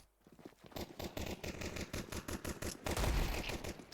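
Rapid gunfire in CS GO: dense, repeated shots crack in quick succession, some in tight bursts, building to a heavier volley near the end, fairly faint overall and without talk.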